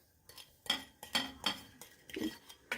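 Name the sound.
stirring dry ingredients into a stew pot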